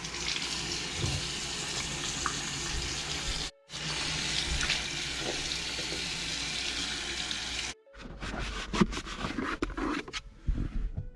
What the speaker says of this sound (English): I'm gonna take it and wash it with soap and water because it is gross